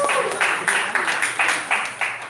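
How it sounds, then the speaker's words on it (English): Audience applause at a winter opening ceremony, heard as a crowd clapping in loose rhythmic surges over a steady background hum, fairly loud and close. "A big round of applause one more time, please."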